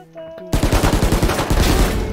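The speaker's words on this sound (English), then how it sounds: "Bulldog can just be such a good gun." After a brief musical tone, a Bulldog rifle in the Valorant video game fires a rapid string of loud, close shots, about fifteen in quick rhythmic succession.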